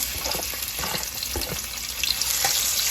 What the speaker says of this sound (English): Now I'm gonna add some onions